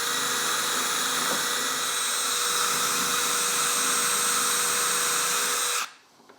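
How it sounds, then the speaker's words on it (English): A drill bores a locating hole through a Rockler undermount drilling guide on cabinet work, a steady loud whining drone running unbroken for nearly six seconds before stopping abruptly. "this will allow you to perfectly locate where you need to drill that locating hole"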